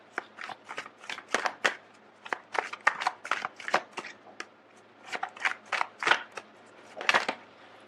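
Tarot cards are shuffled and drawn by hand, a quick run of crisp, papery riffles and slaps that come in clustered bursts, close and fairly quiet, with no talking.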